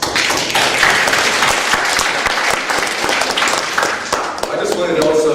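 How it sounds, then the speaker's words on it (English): Loud audience applause fills a conference hall, dense steady clapping with some sharper claps and crowd noise throughout. "So give yourselves a round of applause"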